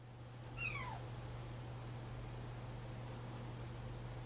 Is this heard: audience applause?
no